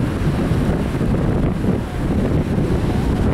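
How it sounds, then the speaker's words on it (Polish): Waves rolling against a kayak out on open water in September, a steady broadband wash of surf and spray with strong wind buffeting the microphone throughout, loud and continuous with no voices. "Ładna fala jedzie chyba."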